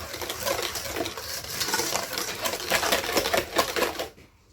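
Cake batter for a pineapple upside-down cake gets stirred briskly in a bowl, producing a rapid, steady clatter of utensil against the dish for about four seconds before it stops.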